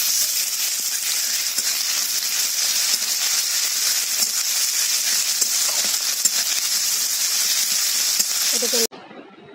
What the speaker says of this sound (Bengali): আদা রসুনটাকে ভালো করে কষে নেব